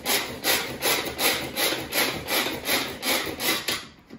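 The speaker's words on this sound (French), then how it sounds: "on va juste donner quelques coups pour mélanger sel et farine" Salt and flour are mixed for shortcrust pastry in a steady run of about a dozen rhythmic scraping strokes, close and moderately loud, with no talking.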